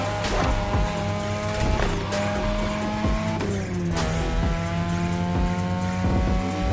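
Car tires squeal through tight touge mountain corners in The Crew Motorfest racing game, a loud continuous engine drone with shifting pitch and repeated screeching skids, several sharp transient bursts along the run.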